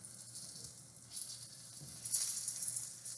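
Shishito peppers sizzle in a pan with a soft, steady frying hiss, faint and close, swelling slightly as the peppers are stirred partway through.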